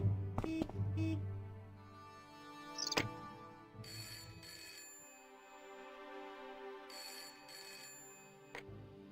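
A telephone rings in the point-and-click adventure game Broken Sword: Shadow of the Templars, sounding as two bursts of bright electronic trilling over soft background game music.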